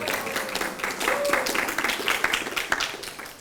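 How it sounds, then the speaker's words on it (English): A seminar audience gives a round of applause, a moderate scattering of hands clapping that swells and thins unevenly, with a voice talking briefly over it. "Give her a big hand of applause"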